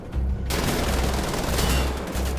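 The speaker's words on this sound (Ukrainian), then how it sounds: "Кулемет." Sustained machine gun fire in Wolfenstein: The Old Blood, a loud dense rapid burst that starts almost immediately and runs without a break for over two seconds, with no speech over it.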